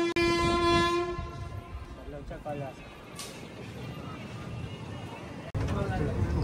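The Narasapur–Arunachalam weekly special 07219, on its inaugural run, pulls out of Chirala station with a loud, sustained horn blast at the start, then a steady rolling rumble with faint wheel clatter. A voice talks over it.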